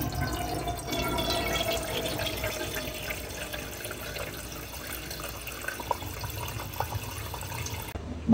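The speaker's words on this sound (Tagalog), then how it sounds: "Ang una po natin gagawin ay lagyan ng tubig ang kaldero." Water pours steadily into a cooking pot in a home kitchen, a continuous splashing stream at moderate level, heard alone for about eight seconds before stopping abruptly at the end.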